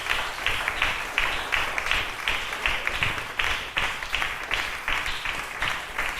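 Church congregation applauding during an evening sermon, a steady, dense wash of clapping from many hands with a rhythmic pulse, filling the room throughout.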